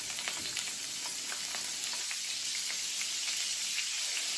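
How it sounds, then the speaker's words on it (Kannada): Vegetables for Hakka noodles frying in oil in a pan, a bright, crackling sizzle with fine popping spatter, steady and close with occasional stirring scrapes, no voices. "ಈ ವೆಜಿಟೇಬಲ್ಸನ್ನು ಚೆನ್ನಾಗಿ ಫ್ರೈ ಮಾಡ್ಕೊಳ್ಳಿ ಫಸ್ಟ್."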